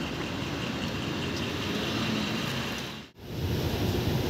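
A steady roar of a metro train in motion in Vienna, a constant broadband rumble that briefly drops out before resuming just as loud.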